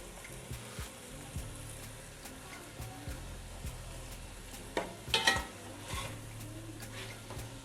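Carrots go into a pan of chicken and vegetable jungle pulao and get stirred, with faint sizzling under scattered spoon scrapes and clinks against the pot, close and quiet.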